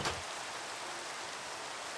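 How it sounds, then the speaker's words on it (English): Steady rain falls in the Minecraft video game, a dense continuous hiss of drops with no pauses, even in level and moderately loud throughout. "It's raining."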